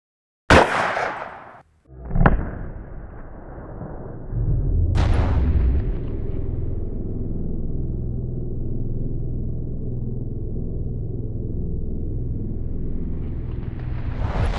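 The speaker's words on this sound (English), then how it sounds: "In this test, we're going to be shooting the 135 grain Speer HAM'R bonded bullet." A .300 HAM'R rifle fires a 135 grain Speer bonded bullet from an 18 inch barrel through a door barrier, giving a sharp close blast, then a second loud crack with impact, followed by a long low rumbling tail.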